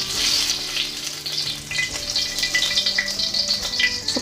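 Ginger pieces sautéing in a little hot oil for a bean sprout stir-fry, a steady close sizzle with light stirring scrapes running throughout, no voices.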